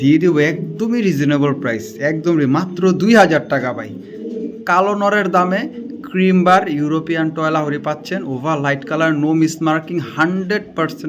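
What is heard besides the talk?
No everyday noises stand out.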